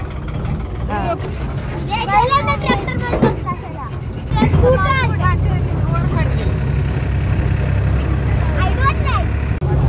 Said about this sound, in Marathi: आणि फायनली आमचा ट्रॅक्टर सुरू झालाय